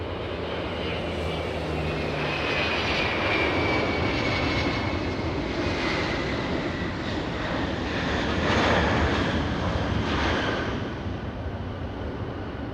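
An airliner arriving at LAX from New York passes with a loud, sustained jet roar that swells slightly toward the later part and holds steady, with a high whining tone.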